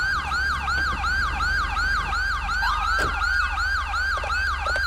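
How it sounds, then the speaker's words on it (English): A police vehicle siren wails in a fast, repeating up-down yelp in GTA 5, loud and steady throughout with traffic rumble underneath and no talk. "Oh, it's her siren, or the stolen police vehicle siren that's on."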